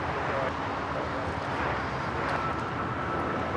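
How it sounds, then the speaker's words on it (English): An American Airlines A321neo takes off at LAX, bound for Charlotte, a steady broadband jet roar with wind rumble, fairly loud and continuous. "This is American Airlines 2596 taking off to Charlotte on the A321neo."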